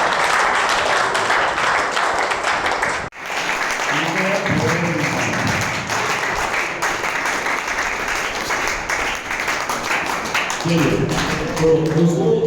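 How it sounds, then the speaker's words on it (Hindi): Loud, sustained applause from an audience at an anti-addiction class and event, dense clapping filling the whole stretch with a brief dip partway, voices mixed in underneath. "जोरदार तालियां इसके लिए"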